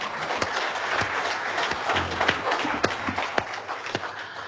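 Applause follows the end of a comic puppet show performance, with scattered, uneven claps from a smallish audience and distinct sharp individual hand claps standing out over a low background.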